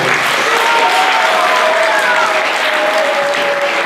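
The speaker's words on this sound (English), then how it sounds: "Give yourselves a big round of applause." Symphony concert audience bursts into loud, sustained applause filling the hall, with a few faint whistles or cheers cutting through the dense clapping.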